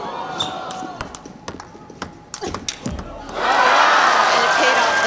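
A table tennis crowd breaks into sustained loud cheering after a sequence of sharp ball and paddle clicks at the World Championships women's singles final, the applause swelling and holding steady to the end.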